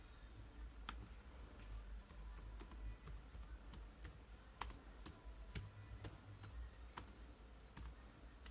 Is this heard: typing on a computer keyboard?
yes